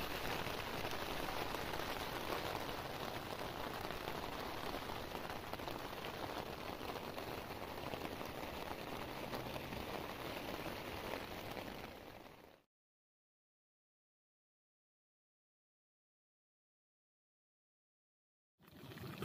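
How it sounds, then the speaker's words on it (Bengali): Heavy rain pounds on a tent at a campsite on the Kashmir Great Lakes trek near Gadsar Pass, a dense continuous patter up close that cuts to silence partway through, then briefly returns. "বৃষ্টি থামার কোনো নাম নেই। এইটা হচ্ছে বাইরের অবস্থা। বৃষ্টি হয়েই যাচ্ছে।"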